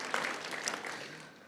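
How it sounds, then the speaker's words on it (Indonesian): Church congregation applauding during a service in Surabaya, a broad wash of clapping at moderate level that thins out slightly toward the end, with no clear speech over it. "Berikan tepuk tangan buat Tuhan kalau saudara sudah diterima."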